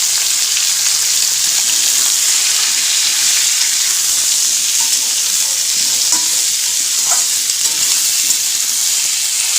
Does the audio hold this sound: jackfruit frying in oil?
yes